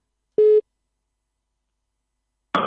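A telephone busy signal on a radio call-in line: one short, loud steady electronic tone, a gap of silence, then a burst of harsh noisy line sound at the end.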